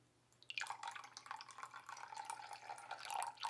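Apple cider vinegar poured for a lime and olive oil vinaigrette, a faint close trickle of thin liquid with small dripping splashes that runs steadily after a short pause.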